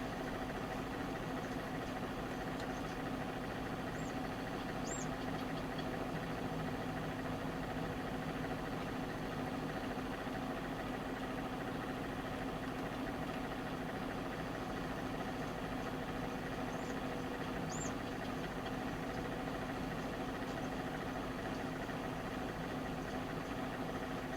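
A tractor engine in Farming Simulator 22 hums at a steady idle throughout, a constant low mechanical drone with even vibration and no changes in pitch.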